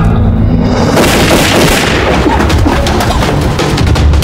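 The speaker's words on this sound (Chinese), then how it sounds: "杨有信可能是炸中跳板了" A loud explosion bursts in a war film set against Japanese forces, a heavy boom after a brief lull that rolls into a long, rumbling, crackling decay at close range.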